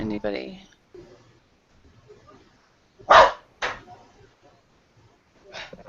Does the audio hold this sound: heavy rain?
no